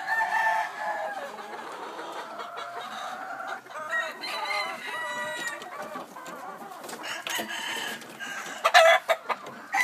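Several four-month-old Peru cross gamefowl chickens cluck and crow nearby, overlapping calls rising and falling, with a few sharp bursts near the end.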